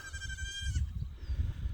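Goats bleat from a distance beyond a farm fence, with one drawn-out wavering call followed by faint low rumbling and scattered background noise.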